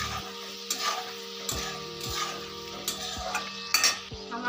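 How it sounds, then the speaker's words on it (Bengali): Chicken pieces frying in a pan are stirred for several minutes, with a continuous sizzle broken by repeated metallic scrapes and clinks of the utensil against the pan, close up with no voices. "ভালো করে 5 মিনিট নাড়াচাড়া করতে হবে"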